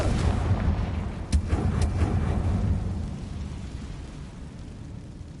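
Confringo fire blast spell in the Hogwarts Legacy game, a deep rumbling boom with crackling bursts that swells at the start and slowly fades over several seconds, loud and without speech.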